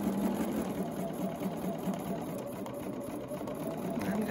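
A sewing machine runs steadily and quietly for a few seconds, making the first small stitches at the start of a quilt, with a continuous even whir throughout.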